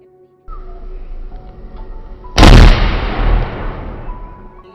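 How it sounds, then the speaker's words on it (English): A squirrel electrocuted on an electric utility pole sets off a sudden loud explosive bang that decays into a long rumbling roar, heard over steady outdoor background noise. "This unlucky squirrel climbs on one of the electric poles and gets electrocuted, causing a terrible explosion."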